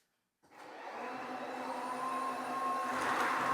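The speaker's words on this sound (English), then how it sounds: "Gonna put some hair on the bathroom floor, and then we're going to vacuum that up." A Dreame wet dry vacuum sucking hair off a bathroom floor: after a short silence the motor kicks on and holds a steady, loud whirring whine that builds slightly toward the end.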